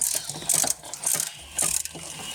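A ratchet socket wrench turns a fitting in three quick bursts of rapid, close mechanical clicking separated by brief pauses.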